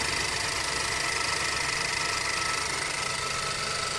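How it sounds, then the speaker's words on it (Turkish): A rebuilt Ford EcoBoost car engine fitted with a replacement engine runs at a steady idle, giving a continuous, even mechanical drone with a fine rattling texture and no voices. "Evet makinemiz şu an çalışıyor arkadaşlar."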